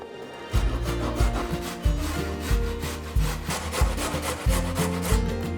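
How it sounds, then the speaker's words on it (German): A carrot is rubbed against a fine kitchen grater in steady, rhythmic strokes of about one per second, each a close, rasping scrape with a thump at the start, with no talking. "Und ich mag sie dann auf der ganz feinen Reibe reiben."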